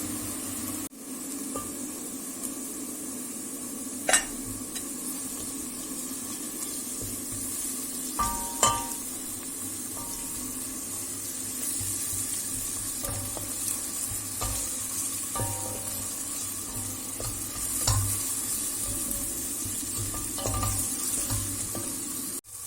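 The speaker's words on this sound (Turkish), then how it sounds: "Kavrulan soğanların üzerine bir yemek kaşığı salça ekliyorum." Onions fried with a spoonful of tomato paste sizzle steadily in a pan for dried bean stew, with occasional light scrapes and clinks of a spoon against the pan, fairly close and without talk.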